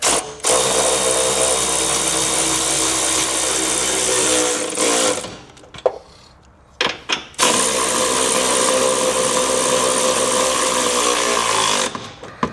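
A power tool whirs steadily while snugging down trailer hitch receiver bolts under a 2025 Acura RDX, two long sustained runs separated by a short pause with a few clicks.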